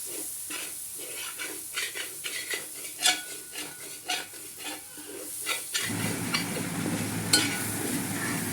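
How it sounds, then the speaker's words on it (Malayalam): Masala is stirred in a pan with coconut oil. Repeated close spoon scrapes and clinks against the pan come first, then a fuller, steady sizzle and hiss takes over near the end, with no voices. "അപ്പോൾ അത് നന്നായിട്ട് ഇളക്കി യോജിപ്പിച്ചെടുക്കാം"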